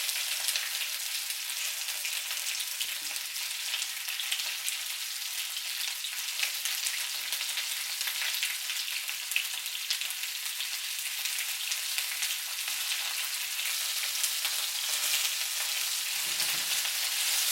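Chinese soy sauce spare ribs browning in a hot pan give off a steady, dense sizzle and fry, even and close throughout with no voices.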